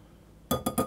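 Flour, sugar, baking powder and baking soda being mixed in a bowl for bacon and cheese scones, heard as three or four quick, close clinks against the bowl after a quiet start.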